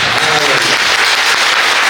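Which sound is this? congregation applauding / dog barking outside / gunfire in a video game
congregation applauding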